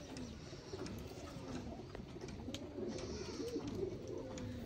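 Low, soft cooing from Lal dobaz pigeons rumbles steadily through the clip, fairly close, with a faint background hum and no talking.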